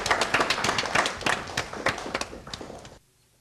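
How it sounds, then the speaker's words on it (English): Audience applause at a science quiz show, a dense burst of many hands clapping close and loud for about three seconds before cutting off. "Let's give them an applause"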